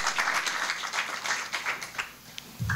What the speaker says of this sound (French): Est-ce qu'on peut applaudir très fort pour la sénatrice